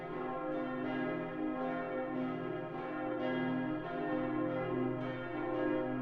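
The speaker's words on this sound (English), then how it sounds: "So that's bell sounds" Layered bells ringing steadily over a sustained hum, overlapping tones swelling and fading with soft periodic strikes, moderately loud and free of voices.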